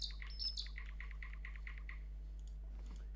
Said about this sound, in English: I wonder if we can tame the bird